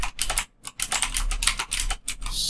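Brisk typing on a computer keyboard while Python code is entered, a rapid run of light clicking keystrokes with two short pauses, close and alone.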